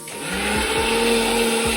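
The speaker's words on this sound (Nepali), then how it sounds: "मम्मी फेरि मिक्सरमा पिस्दै हुनुहुन्छ मसला" An electric kitchen mixer grinds spices nearby in a steady, loud whir, its motor pitch dipping briefly a few times as the spices tumble inside the jar.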